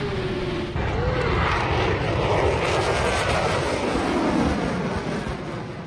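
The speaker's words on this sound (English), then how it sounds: "The F-22 Raptor delivers a breathtaking display at the Oshkosh Air Show, performing maneuvers that seem to defy physics." F-22 Raptor fighter jet flying a display at the Oshkosh air show, a loud, continuous roar of jet engines that swells and holds for several seconds, with a brief tonal whine shifting in pitch near the start.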